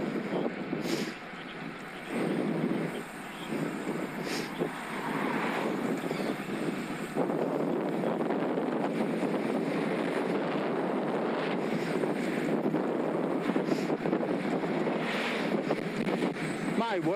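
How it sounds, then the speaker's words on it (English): Strong crosswind buffets the microphone of a cyclist riding a Scott Addict RC near Sutton Common, a continuous loud rumbling roar that swells and dips steadily, with no other sound standing out. "My word, that crosswind is shaking me up a bit."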